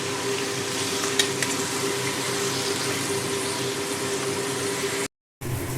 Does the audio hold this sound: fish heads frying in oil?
yes